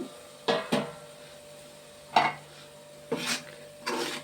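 A metal lid is set on a cooking pot in a kitchen. Several sharp clinks and scrapes come at irregular intervals against quiet background noise, close by.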